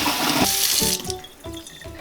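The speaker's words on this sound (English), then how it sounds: "What we're going to do with this pan is we're going to take it over to the sink. And now we're going to fill it up with water." Tap water runs hard into a pan at a kitchen sink, a loud steady gush whose tone shifts and drops as the pan fills, with no voices over it.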